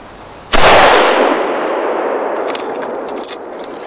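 A single sharp rifle shot from a HEYM Ruger No. 1 fired from a shooting bench, loud and close, with a long decaying echo rolling away afterward.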